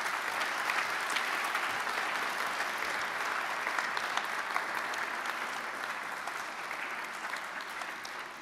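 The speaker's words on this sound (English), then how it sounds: "So can we give our teachers and our parents a big round of applause?" An audience at a student event gives a long, even round of applause for teachers and parents, a steady wash of many hands clapping for over eight seconds, heard from some distance and alone without speech.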